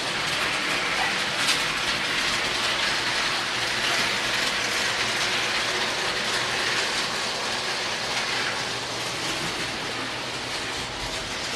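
A toy train set runs steadily along its track with a dense, continuous mechanical clatter and whir. The sound is close and even throughout.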